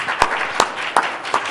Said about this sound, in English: let's give our candidates a nice warm round of applause and thanks